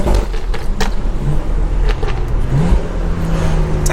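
A BMW with an N55 engine accelerates hard nearby, its rising engine note climbing through the gears as it passes on a college campus, loud and continuous for about four seconds.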